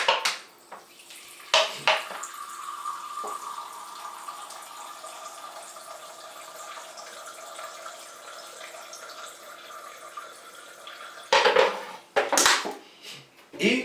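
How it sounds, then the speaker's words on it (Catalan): Vinegar pours into a glass with a steady, thin liquid trickle that is close and fairly quiet, bracketed by a few sharp clinks of glass at the start and end. "Posarem una miqueta de vinagre"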